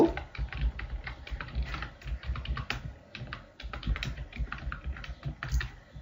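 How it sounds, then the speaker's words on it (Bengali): Rapid keystrokes on a computer keyboard while C++ code is typed into Notepad, close and continuous clattering with short pauses between bursts. "এখানে আমি সি প্লাস প্লাসের কিছু কোড লিখব"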